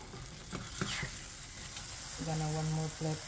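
Tortillas for a strawberry cream cheese quesadilla sizzle steadily in a hot pan, with a few soft clicks early on and a brief sustained tonal hum near the end.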